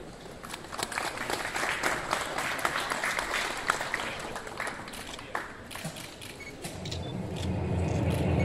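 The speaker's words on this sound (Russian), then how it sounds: "Пожалуйста, аплодисменты, друзья." Audience applause at the opening ceremony of the Healthcare of Belarus 2014 medical exhibition, a dense round of clapping in a large hall that fades near the end under a low background rumble.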